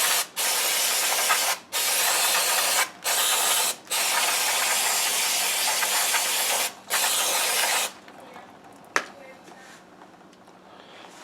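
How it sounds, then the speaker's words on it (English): Several long bursts of aerosol brake cleaner spray hiss up close on the rear drum brakes of a 1967 Pontiac, each separated by brief pauses, ending in quieter handling sounds and a single click. "take a can of brake cleaner and just spray this all down"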